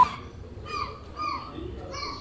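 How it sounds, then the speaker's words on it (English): Seagulls call with a few drawn-out, laughing cries over a steady hum of city street traffic, moderately distant. "Seagulls."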